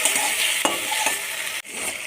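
Spice masala stir-fried with fried gram-flour fritters in a pan, a loud continuous sizzle broken by a few sharp scrapes of the spatula and a brief drop near the end, close up with no voices.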